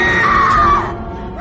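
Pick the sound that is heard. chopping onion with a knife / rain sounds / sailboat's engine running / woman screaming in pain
woman screaming in pain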